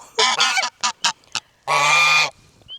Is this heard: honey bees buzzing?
no